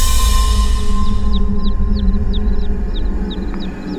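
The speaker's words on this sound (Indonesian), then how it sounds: "Sampai aku mendengar suara anak ayam" High, thin chirps repeat in a quick, regular series over a steady low hum, like small chicks peeping nearby.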